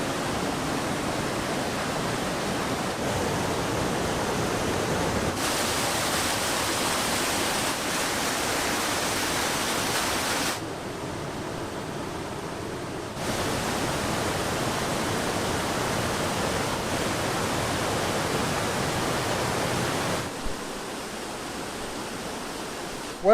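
The Lata Berembun waterfall in Malaysia roars as a constant, broadband rush of falling water, loud and close, its level shifting in blocks as the position changes but never pausing.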